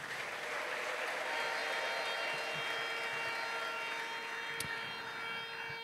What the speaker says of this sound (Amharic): ለጌታ ከፍ ያለ ጭብጨባና እልልታም።